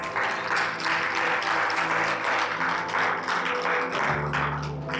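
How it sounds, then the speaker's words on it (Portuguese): Congregation applauding together inside a church, a steady dense wash of clapping that holds for several seconds at full strength, with a low sustained tone entering underneath near the end. "Dê um aplauso ao Senhor."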